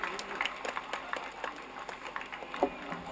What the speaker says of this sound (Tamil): பலத்த கைத்தட்டல் கொடுக்கலாம்.